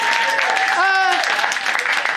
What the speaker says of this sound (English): Big round of applause for Sara.